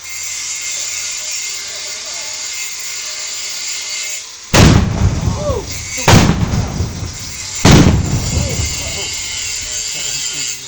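Three heavy booming festive Ramadan cannon blasts in a banana plantation, a second or so apart after a stretch of steady background noise, each followed by a rolling echo.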